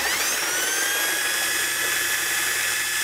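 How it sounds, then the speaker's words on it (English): A steady high-pitched whine of a drill boring a 5/16 hole through a steel frame rail on a GX470, continuous and loud from start to finish with no speech. "you're going to need to drill a hole in the factory frame rail"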